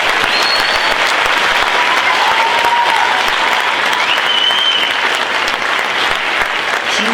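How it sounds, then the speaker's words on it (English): A junior high awards ceremony audience applauds in a dense, steady wash of clapping that holds at an even level for several seconds, with faint voices mixed in. "I just want everybody to give a huge round of applause to Amy McPhail for putting this all together."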